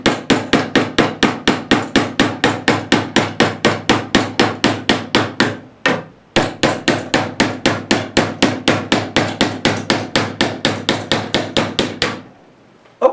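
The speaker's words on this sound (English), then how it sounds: "all I want to do is just tap it along the grain of the wood" A chisel is tapped with a hammer along the grain of wood during copper shell forming, about forty sharp, steady strikes in a fast rhythm, up close and loud, with one short pause midway.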